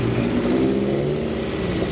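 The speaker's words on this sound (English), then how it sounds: "Someone's being noisy. Oh, it's a Corsa." A Vauxhall Corsa engine revs at a car meet alongside classic cars, a steady loud mid-pitched drone running throughout with no talking over it.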